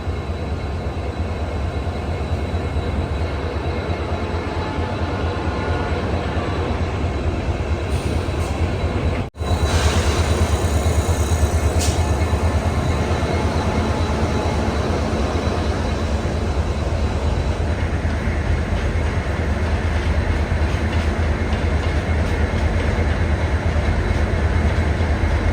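Namo Bharat Rapid Rail (Vande Metro) train running between Bhuj and Ahmedabad, heard from aboard as a loud, steady rumble of wheels on rails with occasional squeal, continuous throughout with a brief dip near the middle.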